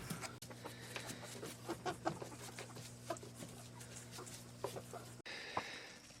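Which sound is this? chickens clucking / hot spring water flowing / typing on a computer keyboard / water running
chickens clucking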